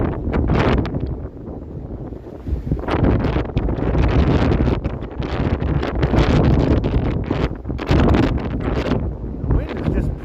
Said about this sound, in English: The wind is just pushing me along here.